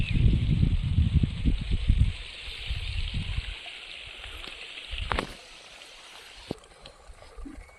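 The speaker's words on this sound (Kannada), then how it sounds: "ನೀರು ನೋಡಿ ಎಷ್ಟು ಚೆನ್ನಾಗಿ ಹರ್ಕೊಂಬತ್ತೈತೆ" Water runs along a village stream channel feeding a paddy field, a soft continuous trickle and gurgle heard beneath louder low rumbling handling noise early on, then faint and close with a few small knocks.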